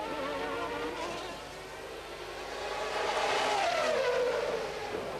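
Formula 1 cars on the final lap at Monaco in 1992, a Williams chasing a McLaren, give a distant, thin high-pitched engine whine that swells and falls as they pass through the street circuit.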